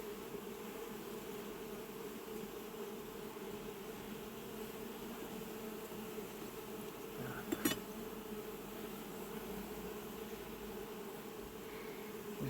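A dense, continuous hum of many honey bees buzzing close by, steady throughout, with one brief click near the end.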